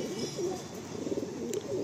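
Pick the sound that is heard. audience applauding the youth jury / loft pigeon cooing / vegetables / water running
loft pigeon cooing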